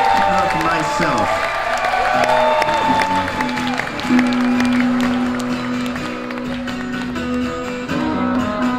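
Concert audience at a Matthew Sweet rock show in Pleasantville clapping and cheering in a dense, sustained wash, with ringing stage tones and a voice talking over the crowd.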